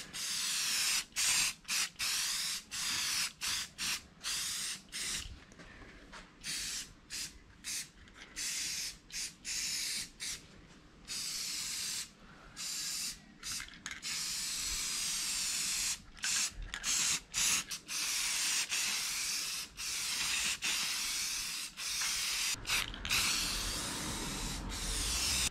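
Rust-Oleum sealer sprayed from an aerosol can onto car sill plates, a broad steady hiss in repeated bursts with brief pauses between passes, close and fairly loud throughout.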